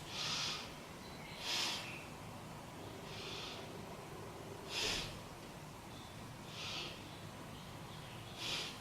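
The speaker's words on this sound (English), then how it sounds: "Let's take 3 breaths." Slow deep breaths during a beginner yoga side-body pose come as soft, airy bursts roughly every second and a half, close to the listener and alone over a faint background hiss.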